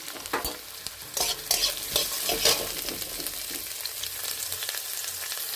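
Chopped onion, carrot and beans fry in a pan and are stirred briskly. Loud scraping strokes come at first over a constant close sizzle, which carries on steadily once the stirring eases off.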